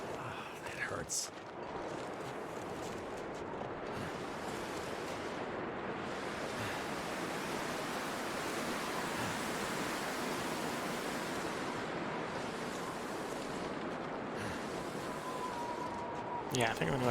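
Strong wind roars across a snowy landscape in The Long Dark on Interloper difficulty, a dense and continuous rushing gust that swells slightly and never lets up.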